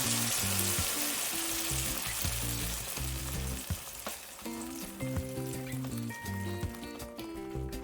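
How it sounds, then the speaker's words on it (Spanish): Salsa sizzles and crackles steadily in very hot oil in a frying pan, a dense close frying hiss with occasional stirring clinks, heard alone without talk. "En una sartén calentamos un poco de aceite hasta que esté bien caliente y vertemos la salsa"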